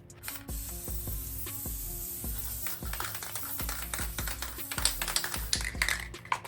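Several short hisses of aerosol lube sprayed onto a dirt bike chain, mixed with repeated mechanical clicking of the chain and sprocket as the bike is walked forward, close and fairly loud.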